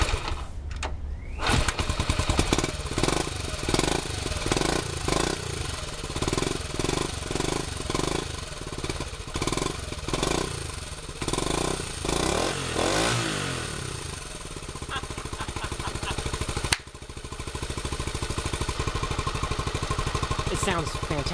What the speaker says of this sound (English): Let's give it a couple kicks.